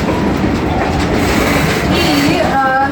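Amusement train running at a pumpkin festival, a steady loud rumble of rolling wheels with faint clickety-clack throughout, and a brief wheel squeal rising near the end.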